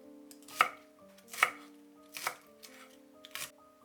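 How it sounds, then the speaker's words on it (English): Knife chopping garlic cloves on a cutting board for a chicken udon stir-fry, four crisp, evenly spaced chops close up, alone with no talk. "and chop 3 garlic cloves."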